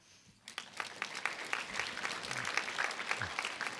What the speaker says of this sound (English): we'll give them a round of applause as well